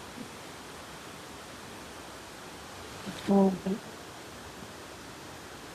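Water from a roadside waterfall near Saputara rushes in a steady, even hiss that carries on unbroken, with a brief spoken word cutting in midway.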